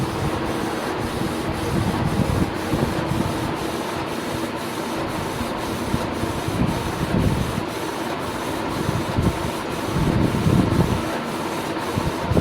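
A Canon MG3070S wireless inkjet printer runs a print job with a steady, close mechanical whir and rubbing feed noise that swells slightly in places, heard alone without talk.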